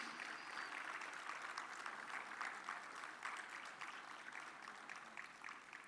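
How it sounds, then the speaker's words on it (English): An audience at a healthcare policy event claps steadily and continuously throughout, a dense patter of many hands at moderate distance, with no voices over it. "And a round of applause on the release of ISHTA Technologies Compendium"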